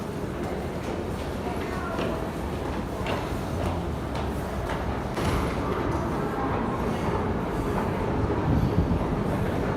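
Train running along the rails in London, a constant loud rumble and rattle with faint clicks, steady throughout, with voices talking underneath.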